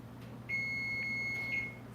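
An oven kitchen timer sounds a single sustained electronic beep lasting about a second while banana bread bakes, clear but moderate against a low kitchen hum.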